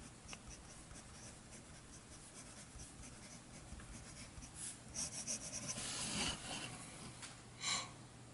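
A Diplomat Excellence A2 fountain pen writes across paper, its faint, steady scratching running throughout with a few louder strokes near the end, alone with no talk.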